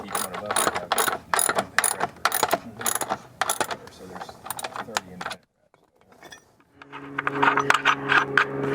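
A ratchet driving bolts back into a VGreen 165 variable speed pool pump motor, rapid close metallic clicking in repeated bursts, a brief quiet pause, then more clicking with some mechanical rattle.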